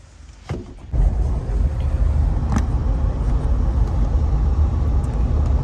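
Inside a Jeep on the move, a steady, loud low road and engine rumble fills the cabin without pause after a brief quieter start.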